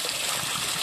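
Water gushes steadily from a 3,000-4,000 gallon per hour pump feeding an aquatic fish-farm wall, a loud, continuous, close rushing flow with no voices.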